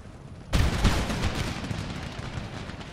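Musket volleys and artillery fire from an Empire: Total War battle burst in suddenly, followed by a dense, continuous crackle of gunfire and booms rolling on at a steady loudness.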